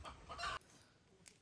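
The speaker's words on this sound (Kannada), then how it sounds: "ನೋಡಿ, ನಾಟಿ ಕೋಳಿ ಹಿಡ್ಕೊಂಡ್ ಬಂದವರು ಹುಡುಗರು" Country chickens cluck in a short, fairly quiet burst that breaks off midway, followed by faint background sound and one brief soft call near the end.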